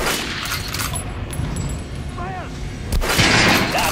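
Gunfire in the video game Metro Last Light, shooting at armored enemies: a dense, continuous roar of shots and impacts over a busy game soundscape, growing louder toward the end.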